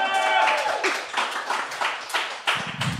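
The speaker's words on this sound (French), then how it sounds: "Ça, c'est là que vous applaudissez" Live audience at a podcast recording clapping and cheering for the guests, a dense burst of claps with shouts layered on top, loud and close, with some voices mixed in.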